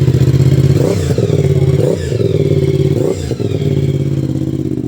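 A Moto Morini X-Cape 1200 motorcycle with an 1187cc engine revs hard and close, its loud, throaty roar rising and dipping in about three surges with no voices.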